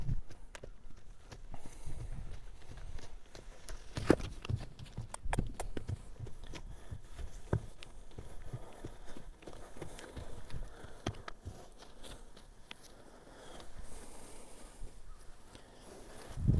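A young colt named Copper clip-clops along during early training, hooves landing in an uneven walking rhythm with occasional sharper strikes, fairly close and moderately loud over a steady outdoor background.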